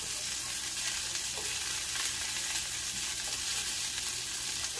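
A striped bass fillet fries skin side down in a hot pan, giving a loud, steady, close hiss of sizzling oil that stays even throughout, with no voices.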